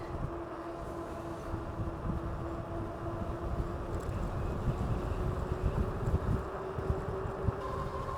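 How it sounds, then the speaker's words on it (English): Wind roars across the microphone while someone rides a Philodo H8 AWD ebike outdoors on a windy spring day, a steady loud rumbling buffet with a faint motor whine underneath. "Well, it sure is windy out here again today."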